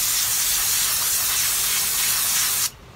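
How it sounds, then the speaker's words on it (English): Non-chlorinated brake cleaner sprays from an aerosol can onto an old t-shirt, one continuous loud hiss close by for almost three seconds before cutting off abruptly. "you want to get some non-chlorinated brake cleaner"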